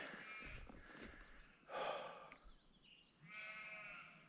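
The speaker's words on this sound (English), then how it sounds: "It's lovely and quiet up here, apart from the sheep." Sheep bleat on quiet Peak District hills, a few drawn-out calls from different animals, one louder nearby bleat in the middle and others fainter, with a soft breath-like sound between them.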